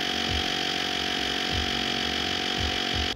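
Running JFEGWO portable tire pump: a steady, loud motor drone with a buzzing, rattling compressor tone and faint periodic thumps, heard up close, continuous until it cuts off at the end, with no speech.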